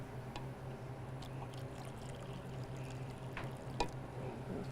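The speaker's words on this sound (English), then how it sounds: "Do you want me to pour it in the cup?" Liquid pours softly into a cup with a faint, steady trickle in a quiet room and no talking.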